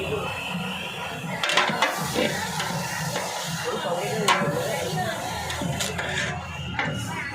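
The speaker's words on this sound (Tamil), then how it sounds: "பாருங்கள், மாஸ்டர் போட்டு கிண்டுறாரு. சுக்கா ரெடி பண்ணிட்டு இருக்காரு." Mutton chukka being stirred and fried in a pan by a cook: steady sizzling and hissing, with metal spatula scrapes and clinks against the pan, while a person talks over it.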